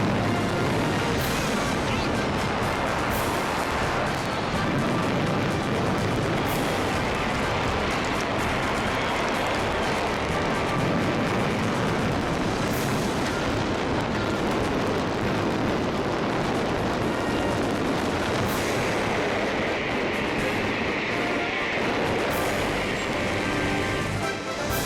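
Fireworks at the Thunder show in North America: a dense, continuous barrage of booming explosions and crackling bursts, loud and relentless, with occasional sharp high cracks and a faint crowd beneath.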